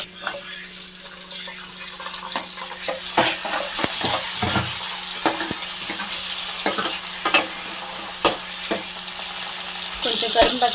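Chopped onion sizzles steadily in a pan for a chicken curry, with frequent sharp clicks and scrapes of stirring across the clip and a brief louder burst near the end.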